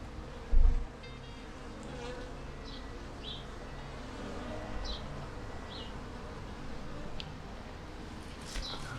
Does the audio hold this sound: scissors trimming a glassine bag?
no